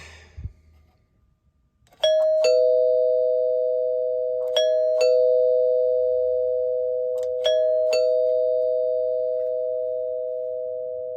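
An antique vintage electric door chime strikes three two-tone ding-dong pairs, each pure ringing tone sustaining and slowly decaying, clear and close in a quiet room after a brief soft knock.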